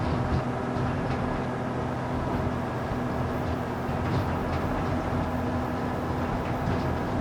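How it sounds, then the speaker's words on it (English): A Fendt tractor engine in a farming simulator video game rumbles with a steady, loud drone and a constant tonal hum, unchanging throughout and heard alone without talk. "a couple of different Fent tractors, and absolutely love the sound of those"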